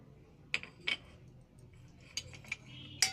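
A metal spoon stirs Bihari-style papaya chokha with pickle masala and coriander leaves, giving about five light, sharp clinks against the bowl, spaced irregularly and fairly faint over a quiet background.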